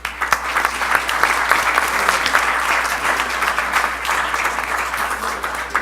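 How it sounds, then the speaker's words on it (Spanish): A large audience at a panel ceremony on jurisdictional protection applauds steadily, a dense, loud wash of clapping sustained for several seconds with a faint low hum underneath. "Un aplauso, por favor."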